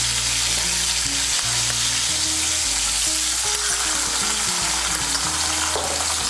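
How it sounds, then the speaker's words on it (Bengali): Green chilli paste and cumin paste being stirred into chopped tomato frying in a pan for a pabda fish curry with brinjal, a loud, continuous close sizzle with a low hum underneath. "কাঁচা লঙ্কা বাটা আর জিরে বাটাটাকে মিশিয়ে নেব"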